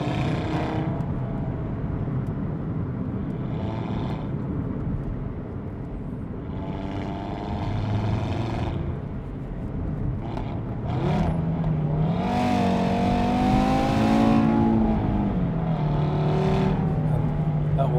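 2018 Audi RS3 Quattro engine accelerating through the gears, a loud continuous drone with rising pitch sweeps, dips at shifts, then surging again, recorded from inside the car.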